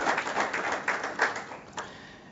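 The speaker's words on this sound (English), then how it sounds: "I think we should give the FCC a round of applause for their participation yesterday" A conference audience gives a short burst of applause, dense clapping that fades out over about two seconds.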